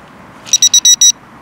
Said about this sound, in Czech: Signalizátor spolehlivě indikuje jak klasickou jízdu,